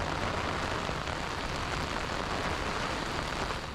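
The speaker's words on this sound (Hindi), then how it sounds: "अभी एकदम से यहाँ पे बारिश होने लग गई है" Steady rain pours onto a street in Intramuros, Manila, a dense continuous hiss of drops hitting pavement close by, with no talk over it.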